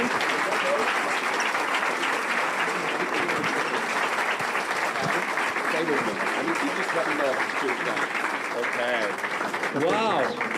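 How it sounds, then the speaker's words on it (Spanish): An audience applauds at an evening conference on combating antisemitism, a steady dense wash of clapping lasting throughout, with a voice speaking briefly over it near the end. "Si vamos a aplaudir, lo hacemos con gusto."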